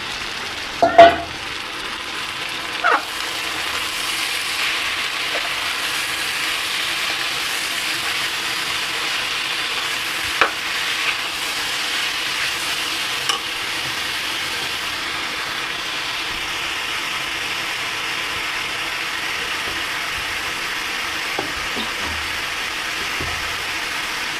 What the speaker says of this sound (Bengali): ঝালও ফ্রাই দিচ্ছে।